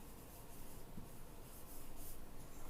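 Faint, soft scratching of words being written on a board runs in short strokes beneath a hissy background, quiet and close, with no talking.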